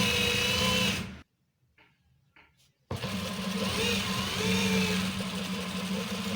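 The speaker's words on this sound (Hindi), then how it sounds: "इसी तरह से हमने इसके ऊपर एक और बूट की सिलाई लगानी है" Sewing machine stitching a seam on a trouser of a police uniform, a steady close mechanical whirr that halts briefly with a couple of faint clicks, then resumes running continuously.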